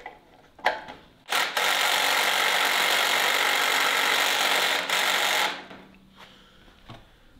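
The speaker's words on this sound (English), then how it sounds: "gonna turn our drill in and go in and tighten them up how we like it" A cordless drill driving screws into a wooden blanket ladder, with a short whir, then a sustained high-pitched whine lasting about four seconds before stopping, followed by a brief final burst, close by.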